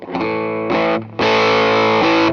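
Electric guitar through a JHS Tone Bender fuzz pedal with the fuzz at zero and the volume fully up, loud sustained chords with a short break, then a longer ringing chord.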